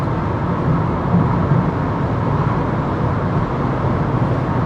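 Renault Kangoo Maxi van cruising at speed on a highway, a loud constant interior rumble of road and engine noise with no breaks.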